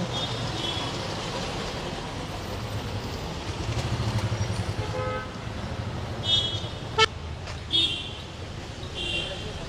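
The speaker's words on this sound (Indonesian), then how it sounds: "masih sering terdengar klakson-klakson" Car horns honk on a Kolkata street, several short toots close together near the end, over a steady wash of traffic and street noise.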